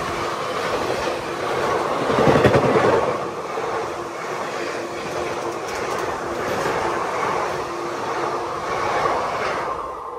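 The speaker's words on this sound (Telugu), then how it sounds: "అది ముందుకు పోయినాక మన ట్రైన్ అయితే స్టార్ట్ అవుతుంది." Express train on the Chennai to Shirdi route rumbling and clattering as it pulls away after a crossing halt, steady loud rolling noise with a swell of wheel clatter early on.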